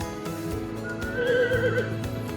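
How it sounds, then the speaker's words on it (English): A horse in the middle of a road in Spain gives a loud, drawn-out whinny, close by, with faint outdoor noise around it. "In the middle of the road, look, just training the horse."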